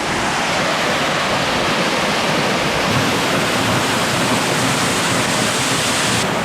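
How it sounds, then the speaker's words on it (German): The Giessbach Falls waterfall in the Swiss Alps thunders down close at hand, a dense, continuous roar of crashing water that stays loud and steady throughout with no voices. "Dafür können wir jetzt hier die Giesbachfälle bestaunen. Sehr imposant, kräftig, wie da die Wassermassen runterdonnern."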